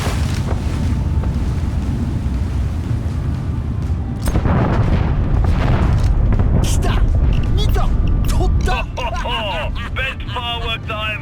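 A large explosion in the heist video game Payday 2 bursts in partway through as a loud, broad rumbling blast that stays dense for several seconds. A voice speaks near the end.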